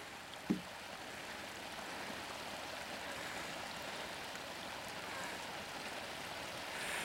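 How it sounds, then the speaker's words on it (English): Fresh water trickles over a small weir toward the sea beside a beach on the Cornish coast near Polkerris, a faint, even watery hiss that holds steady throughout, with one soft knock near the start. "you can see the fresh water there trickling over the top of the weir as it makes its way down towards the sea"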